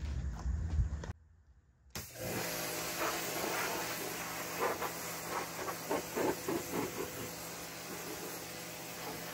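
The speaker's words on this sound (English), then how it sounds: "We're going to use this pressure washer to clean out the inside" A pressure washer cleans the inside of a homemade offset smoker, a harsh continuous spray hiss with rhythmic bursts as the jet sweeps across the metal, heard close and alone.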